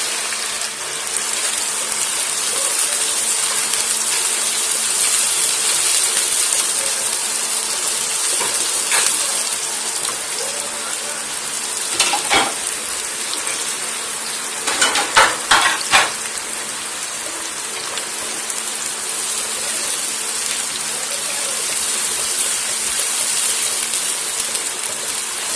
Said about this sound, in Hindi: हम डालेंगे 3 अदद प्याज कटी हुई इसी ऑयल में